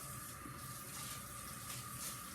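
A kitchen tap runs as hands are washed, giving a steady, moderate stream of water close by with faint splashing and no pauses or talk.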